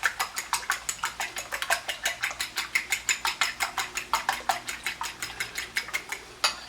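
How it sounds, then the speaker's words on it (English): Eggs for a Greek omelet are beaten in a bowl, a fast regular series of crisp whisk or fork taps against the dish, about four strokes a second, close and alone. "Meanwhile, we'll mix our eggs, get those all ready to go"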